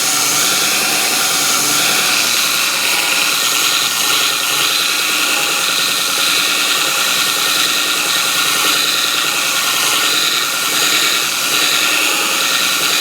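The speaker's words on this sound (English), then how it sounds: "start grinding that bevel in" A belt grinder grinds a bevel into a steel draw knife blade, giving a loud, unbroken abrasive hiss and whine with a steady motor hum underneath, close by and with no speech.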